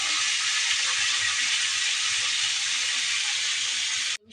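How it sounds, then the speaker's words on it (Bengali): Winter vegetables fry in oil in a home kitchen with a steady, close, loud sizzle and hiss that holds evenly throughout before cutting off abruptly at the end, with no talking. "সবজিগুলো আমি একটু ভেজে নিচ্ছি।"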